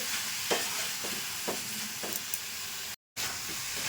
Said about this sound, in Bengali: এলাচ নারকেলের দুধটাকে অনবরত নাড়ব